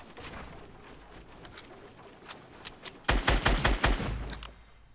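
Gunfire from players in the Fortnite battle royale game, scattered distant shots at first, then a loud close burst of rapid suppressed SMG fire that tails off.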